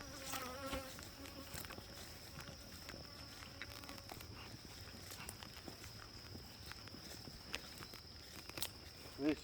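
Bees buzzing steadily around a hive as a beekeeper checks the frames for swarm cells, a constant close drone with occasional louder passes and light handling knocks.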